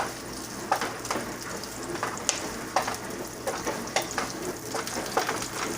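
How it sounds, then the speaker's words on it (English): Onions frying and caramelizing in a pan for Philippine bihon rice noodles give a steady crackling sizzle with occasional stirring scrapes and pops, close and continuous without speech. "so I put onions, caramelize the onions."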